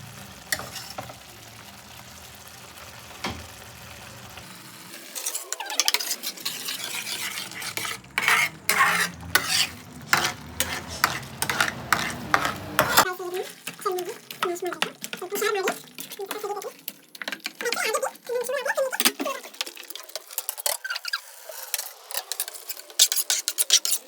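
A spoon scrapes and stirs thickening pav bhaji mixture in a hot pan, with irregular rasping strokes and a soft sizzle. Bursts of scraping come in quick clusters, and a voice talks at times.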